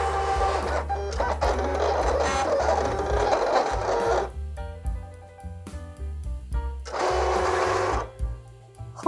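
Silhouette Cameo 4 cutting machine running a test design, a buzzing mechanical whir with stepping motor tones in repeated bursts, pausing and starting again, close and alone.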